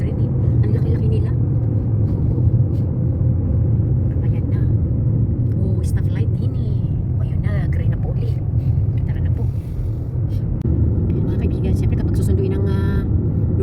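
A steady, loud engine rumble and road roar from a vehicle on the highway as a road train truck goes by, continuous throughout with a voice speaking over it.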